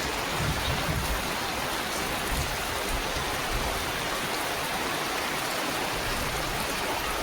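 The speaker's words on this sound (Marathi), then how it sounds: "आपले पाऊस पडता" Heavy monsoon rain pours down in a dense, even rush of noise, close and steady throughout, with no pauses.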